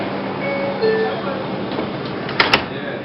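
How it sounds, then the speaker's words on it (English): Doors of a Manhattan-bound 5 local subway train closing at a station, a couple of quick sharp knocks near the end over steady rumbling platform noise and chime-like tones. "Stand clear of the closing doors, please."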